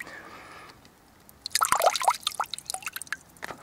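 Water dripping and trickling while a water filter is back-flushed, quiet at first, then a burst of irregular close drips and splashes of varying loudness, with no talk.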